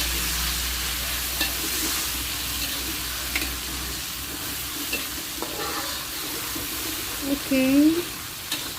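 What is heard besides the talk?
chilies sizzling as they go into hot oil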